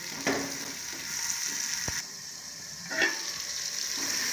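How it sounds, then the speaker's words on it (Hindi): Onions frying in a pan give a steady, moderately loud sizzle, with a couple of brief stirring clatters and a louder surge of hiss partway through. "अब हम इसमें प्याज डाल देते हैं और इसके तकरीबन 1 या 2 मिनट तक फ्राई करेंगे इसे"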